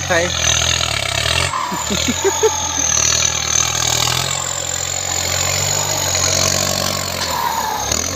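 Kubota M7508 turbo tractor engine, out felling trees, running at a close, loud, steady rumble with a rise in revs and a high whine, a brief drop near two seconds, and someone talking over it.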